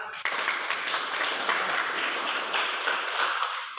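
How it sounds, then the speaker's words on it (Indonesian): Sustained clapping from a classroom of students after a group presentation, steady and fairly close, filling the whole stretch without talk. "Kita tepuk tangan lagi."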